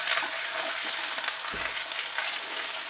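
Olive oil heating in a frying pan: a steady, moderately loud sizzle and crackle with a soft clunk partway through, no voices.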